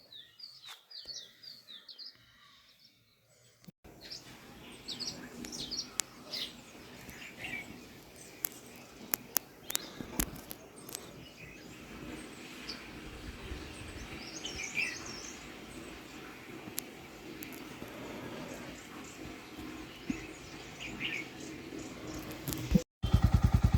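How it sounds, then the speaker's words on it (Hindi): Birds chirp and tweet intermittently at a distance over a quiet background with faint insect buzz and occasional soft knocks. "चिड़ियों की आवाज़ आ रही है"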